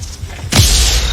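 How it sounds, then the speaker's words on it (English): A mortar fires in the video game Battlefield V, a single abrupt loud boom after a quiet moment, followed by a sustained rushing tail. "I have time to use that mortar."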